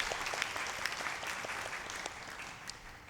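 A church congregation applauds its praise team after worship singing, a fairly quiet, even patter of many hands with a few sharper individual claps standing out.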